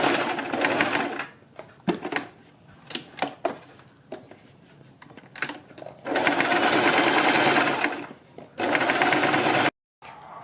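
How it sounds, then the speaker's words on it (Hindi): A sewing machine stitches along the other side of a neckline, giving several short, close stop-start bursts and then two longer continuous runs of steady mechanical whirring with brief pauses between them. "फिर इसी सिलाई को हम लगाते हुए गले की दूसरी साइड लगाएंगे"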